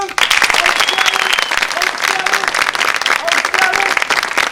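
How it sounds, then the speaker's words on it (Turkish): A crowd applauding guests at a wedding celebration, sustained loud dense clapping from many hands, with music tones faintly woven underneath. "Alkışlayalım, alkışlayalım"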